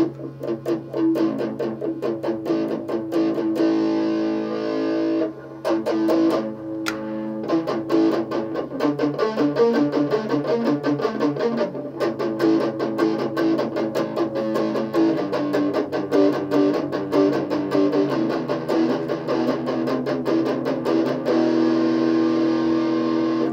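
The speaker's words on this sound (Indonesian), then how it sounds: "Ini pakai efek distorsi." An electric guitar played through a distortion effect, with chords chugging on the low bass strings in a steady, loud, buzzing rhythm, alone throughout with only brief breaks.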